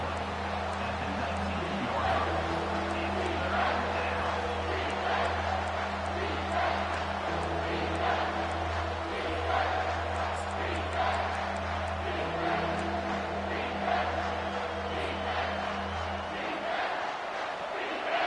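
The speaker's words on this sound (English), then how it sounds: "This crowd knows when to bring it." A stadium crowd roars and cheers in the football video game College Football 25, in a USC at Ohio State matchup. The broad noise is loud and sustained, with chant-like swells running throughout, and it drops away at the very end.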